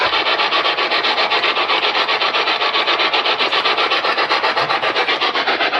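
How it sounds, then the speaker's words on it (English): Loud, close rasping drag repeated in quick, even strokes, like something scraped back and forth across a rough surface, with no voices. "Is there someone like making like a dragging noise?"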